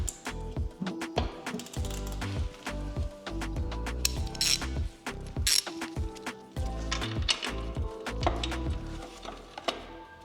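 A ratchet wrench clicks rapidly while rusted fuel tank bolts are loosened on a Yamaha R1 motorcycle, bursts of sharp metallic ratcheting repeating in uneven runs, close and loud.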